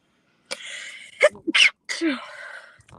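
A loud, close sneeze with a sharp burst, followed by a brief exhale and a short vocal sound afterward.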